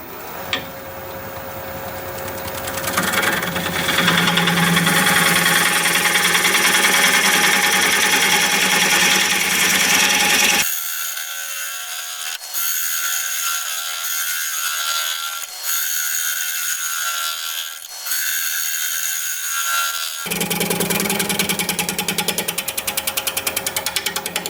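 A wood lathe spins a blank of unidentified wood while a tool cuts it round, giving a continuous, loud, gritty rasping whir with a quieter, thinner stretch in the middle, close by and with no voices.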